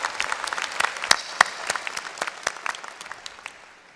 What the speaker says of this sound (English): we salute you and give you a round of applause